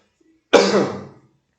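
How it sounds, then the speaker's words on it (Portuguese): A single harsh cough bursts out during a class after a moment of silence, then rasps and fades over about half a second. "tossindo aqui um pouquinho aqui, peraí."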